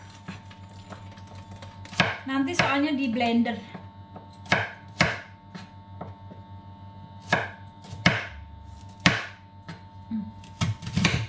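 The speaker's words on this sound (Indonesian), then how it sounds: "Onionnya, potongnya gede-gede aja ya, nggak kecil-kecil." Onion is chopped into large pieces on a cutting board, with sharp knife strikes landing in irregular bursts, close and clear, while someone talks briefly in between.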